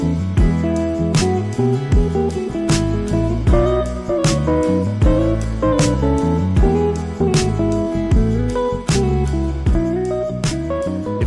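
Guitar playing sixth intervals moving up and down the fretboard, a steady run of plucked two-note dyads with crisp attacks, played alone, close and clear.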